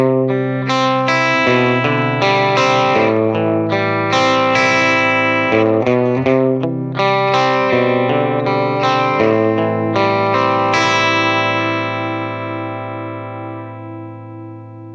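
Electric guitar with a fresh set of strings, strummed chords run through effects with chorus and distortion, bright and ringing, played loud and alone for about twelve seconds before the last chord fades out.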